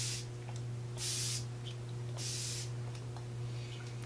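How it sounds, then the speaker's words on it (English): A cosmetic spray bottle releases two short, bright puffs of fine mist, each a soft hiss against a quiet indoor hum. "It's a very light spray."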